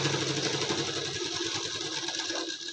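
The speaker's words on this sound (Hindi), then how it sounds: "सिलाई लगा देते हैं।" A sewing machine stitches a blouse belt seam, a steady close mechanical whir with fast needle chatter running through the whole stretch.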